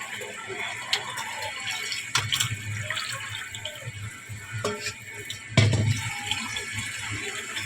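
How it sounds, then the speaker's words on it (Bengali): Tap water runs steadily into a bowl as cooked rice for a Bengali dhoka recipe is rubbed and rinsed until the water turns milky, with a few louder splashes and sloshes from hand movements. "এরকম করে ধুয়ে নিতে হবে যে এইরকম সাদা সাদা জল যতক্ষণ বেরোবে"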